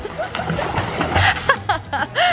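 A child splashes in open water while ducking under the surface, with bursts of sloshing and splatter amid excited voices and laughter nearby.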